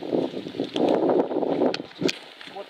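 Steady rushing wind near a burning forest buffets the microphone, loud and close, with a few faint knocks and rustles mixed in.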